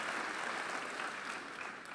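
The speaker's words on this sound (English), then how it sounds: "You all give Amanda a big round of applause." Audience applause at a client summit event, a steady dense wash of many hands clapping that carries evenly throughout, fairly distant and moderately loud with no voices over it.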